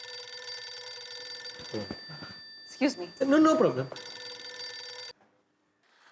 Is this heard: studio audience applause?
no